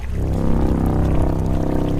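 Someone drowning in a river, heard as a loud, steady churning and gurgling of water with deep bubbling and low rumbling, unbroken for about two seconds.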